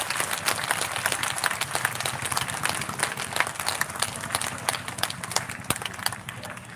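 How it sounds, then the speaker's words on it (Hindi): A hall audience at a comedy and poetry show in Lucknow claps together, a dense, steady patter of hands lasting several seconds with some crowd murmur underneath and sharper individual claps poking through. "पूरा सदन पीछे तक हाथ खड़े करके एक बार जोरदार तालियां बजाए"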